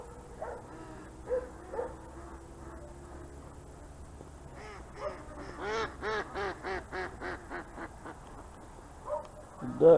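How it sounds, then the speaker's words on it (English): Several ducks quack in a quick run of repeated calls near a fishing spot, loud and close, with quieter calls before and after and faint background noise. "The ducks are having a good old time"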